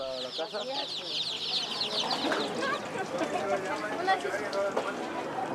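Many small chicks cheep in a rapid, high-pitched chorus at a market in Bolivia, a busy cluster of chirps filling the background, with speech briefly underneath.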